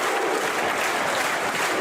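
A record home crowd at Bradford City fills a football stadium with loud, sustained clapping and cheering for a goal against Colchester United, a dense continuous roar throughout.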